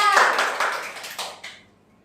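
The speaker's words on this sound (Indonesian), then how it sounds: "Tepuk tangan untuk Brigita." Students in a primary school classroom clap together during a fifth-grade maths lesson, a short burst of close, fairly loud applause that fades within about two seconds.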